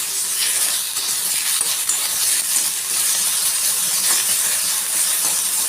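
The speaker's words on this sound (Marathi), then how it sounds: "हे आपण थोडंसं फ्राय करून घेऊयात" Cashews frying in a pan in leftover oil from onions, a steady close sizzle with soft crackles throughout.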